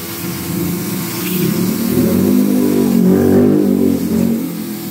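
A motor engine revs steadily, a loud continuous mid-pitched drone that swells slightly as it accelerates, close by with no talking.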